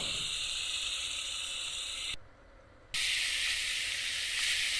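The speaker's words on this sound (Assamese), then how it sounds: "এতিয়া আকৌ লৰাই দিছোঁ ভালদৰে।" A curry sizzles in a hot pan while being stirred, giving a steady loud hiss that cuts out briefly midway and then returns even stronger.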